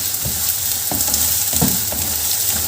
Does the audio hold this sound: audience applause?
no